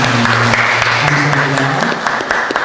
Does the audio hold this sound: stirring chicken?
no